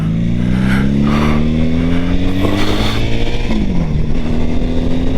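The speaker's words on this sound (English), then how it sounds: "Crazy motorcyclist." A motorcycle on a road passes by with a steady droning engine that shifts pitch downward as it goes, loud and close from start to finish.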